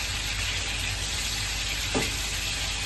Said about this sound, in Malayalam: തക്കാളി കുറച്ച് ഫ്രൈ ആയി.